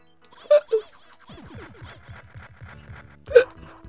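Cartoonish hiccup sound effects from the SNES game Pocky & Rocky 2, two quick hiccups early and one more near the end, set over bouncy chiptune game music.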